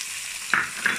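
Pork sautéing with onion in a pan for a Chinese-style cucumber dish, a soft hiss broken by two brief stirring scrapes.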